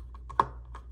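A bit driver turning backward in a knife's pocket-clip screw gives one sharp, close click, with a few small, faint ticks around it and no talk.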